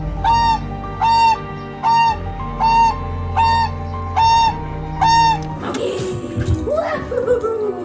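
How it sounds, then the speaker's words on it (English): Friendly goose honking, seven loud nasal honks in an even rhythm close by, followed by a burst of mixed noisy sound that may include a voice. "Have you ever seen a more friendly goose?"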